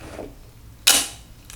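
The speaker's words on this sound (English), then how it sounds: "Release the shutter." A Voigtlander Bessa R film camera fires its shutter once, a sharp close mechanical snap with a brief decaying tail, followed moments later by a fainter click.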